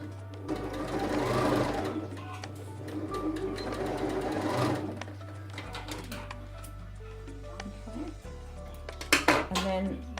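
A sewing machine stitches a makeup bag with a zip in two runs of rapid, steady mechanical whirring, each a few seconds long. Metallic clinks and handling noises follow at close range.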